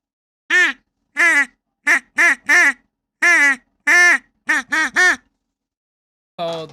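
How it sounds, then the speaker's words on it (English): An electric duck call sounds about ten loud, buzzy quacks in short irregular bursts separated by silent gaps, with one last quack after a longer pause. "or the electric duck call."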